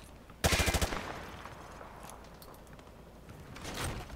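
Rapid burst of automatic gunfire from a rifle shooting through light cover on a Modern Warfare 2 Remastered training range, loud and close, followed by a lingering echo and faint mechanical clatter, with another softer burst near the end.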